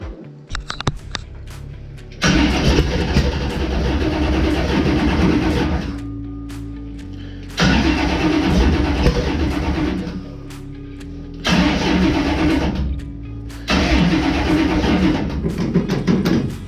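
A Corvette engine in a street stock race car cranks and fires up inside a shop, with several loud bursts of rough running separated by brief drops to a quieter idle.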